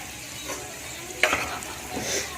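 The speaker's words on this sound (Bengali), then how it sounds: "পেঁয়াজ ভাজা ভাজা হয়ে এসছে হালকা, এখানে ক্যাপসিকামগুলো আমি দিয়ে দিচ্ছি।" Capsicum tossed into a pan of lightly fried onions, giving a bright close sizzle with a burst of crackling and utensil scrapes as it hits the hot oil, no talking.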